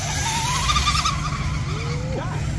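An RC drag racing car at a springfest drag event launches down the strip with a loud, continuous motor whine that rises in pitch, heard up close with crowd noise and a faint voice in the background.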